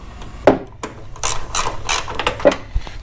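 Bolts tightened on a Jeep Wrangler hood strut bracket, with a few short ratcheting clicks and metallic taps from a hand tool, close up and separated by brief pauses.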